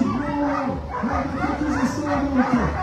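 Sled dogs bark, yip and whine in an excited, overlapping chorus just before a race start at La Toussuire, continuous and fairly close, with an announcer's voice speaking over them.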